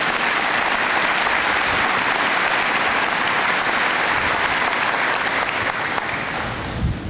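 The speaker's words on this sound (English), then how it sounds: "Please give Jeff another round of applause." At a college commencement ceremony, an audience gives a sustained round of applause for Jeff, a full, even wall of clapping that continues unbroken throughout.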